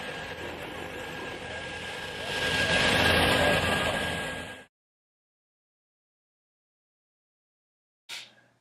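A small plane lands on a bush airstrip in Africa, a loud, broad roar of engine and rushing air that swells for a few seconds and then cuts off abruptly, followed by silence and a brief final burst.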